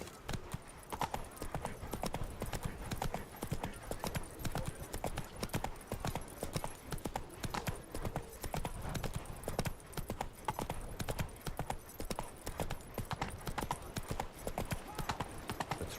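Hooves of the horse Roach galloping in The Witcher 3, a rapid, even clip-clop rhythm sustained throughout, fairly close and moderately loud, with faint game ambience behind it.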